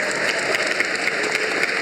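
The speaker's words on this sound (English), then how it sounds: "Give yourselves a round of applause." A brief stretch of dense audience applause at a convention Q&A panel, many hands clapping steadily at an even loudness.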